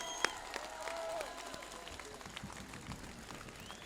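Crowd at a political rally in Etchmiadzin breaks into applause, clapping heard faint and distant with scattered claps tapering off over a few seconds.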